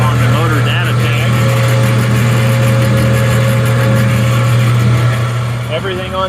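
Small electric feed and seed mixer running with its paddles turning, a loud steady motor hum and churning drone, with a person talking over it.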